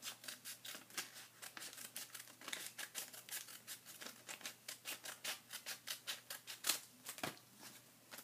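Scissors snipping through paper while making a paper head set, a quick regular series of crisp cuts, faint and close, with a small clack near the end.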